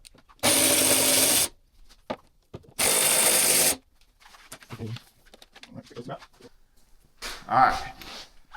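Power tool with a 1/4 inch Allen bit removing bolts from the fender of a 2025 Harley Road Glide, two loud sustained bursts of about a second each, followed by quieter handling noises and speech.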